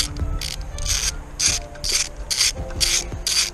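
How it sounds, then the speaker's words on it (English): Ratchet spinning loose intake manifold bolts on a 4.6L DOHC engine, heard as close, bright bursts of rapid clicking repeating about every half second, with no talking. "I'm going to remove these bolts in an X pattern"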